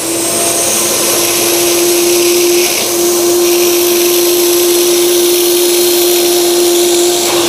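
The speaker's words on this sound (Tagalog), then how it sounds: "tsaka ko siya titirahin nitong vacuum cleaner" A vacuum cleaner runs continuously at close range while cleaning a car's interior upholstery, a loud steady motor whine with a constant tone and rushing airflow, unbroken throughout with no talk.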